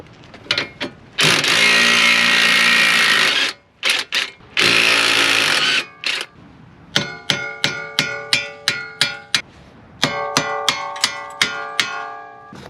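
A weak power drill loosening a suspension part on a Pontiac G8 during a shock, strut and lowering spring job, with long whirring runs followed by a series of rapid rattling bursts, close and loud.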